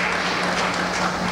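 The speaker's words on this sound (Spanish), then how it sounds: "Sus colegas de fracción lo despidieron con aplausos y fotografías." Legislators in an assembly chamber applaud a departing assembly president with a brief, dense burst of clapping, loud and close, over a low hum.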